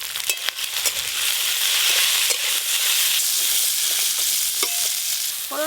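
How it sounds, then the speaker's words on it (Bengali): Malabar spinach stems fry in oil with five-spice, giving a loud, continuous close sizzle and hiss. A spatula scrapes and stirs through it with small clicks, and no one speaks. "ফোড়নের সাথে পুঁই মেটুলিগুলো বেশ ভালো করে নেড়ে নিয়েছি।"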